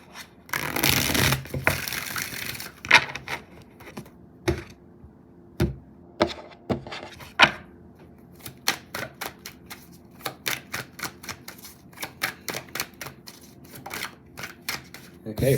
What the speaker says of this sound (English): I'm gonna get one more shuffle with these cards.